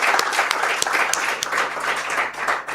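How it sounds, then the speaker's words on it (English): A conference audience of in-person attendees at an African congress on digital sequence information gives a round of applause, loud, close and sustained, with some individual claps standing out. "We give you a round of applause for being with us"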